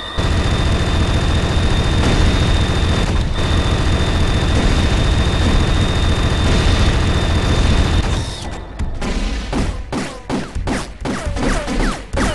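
Loud, sustained roaring blasts of the Firestorm Cannon in Turok 2 online multiplayer fire for about eight seconds, then break into a rapid series of sharp, punchy bursts.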